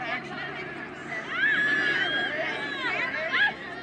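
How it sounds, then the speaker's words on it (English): A loud crowd cheers and calls out at a college soccer match at George Allen Field, Long Beach State against UCLA, a rising, steady roar with a commentator's voice over it. "you can hear that very, very loud crowd here at George Allen Field"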